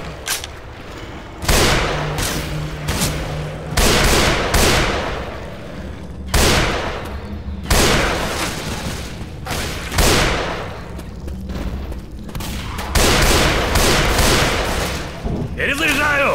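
Repeated shotgun blasts ring out in Left 4 Dead 2, a series of loud booming shots spaced a second or two apart, with game noise and voices in between.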